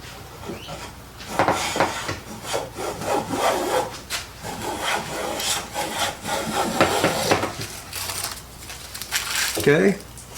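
Autoset hand plane with a very narrow mouth shaving a wooden board, a run of close, repeated rasping strokes with brief pauses between passes.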